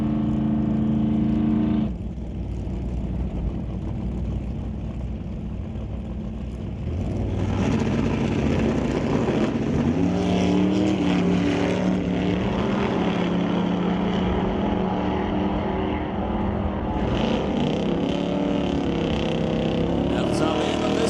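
A Chevy II and a Plymouth Barracuda drag race, engines roaring, dropping and then surging loudly again as the cars charge down the strip, under continuous commentary from an announcer.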